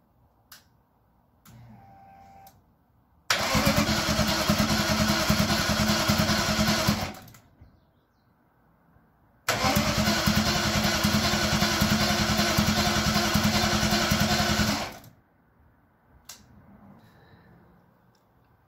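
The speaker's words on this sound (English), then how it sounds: "here goes the first ever crank and test fire" BMW V8 engine in a T-bucket hot rod cranked over by the starter, two long bursts of steady loud rapid churning, each several seconds, with quiet gaps between and no clean running catch.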